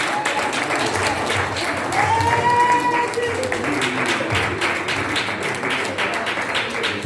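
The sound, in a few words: church congregation applauding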